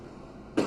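A smoker lets out a single short cough near the end of a quiet moment, close and fairly loud.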